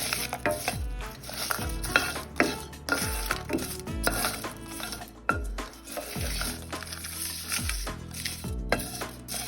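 Curry leaves and green chillies frying in a pan, with repeated scraping strokes of a spatula stirring against the metal over a steady light sizzle, close and fairly quiet.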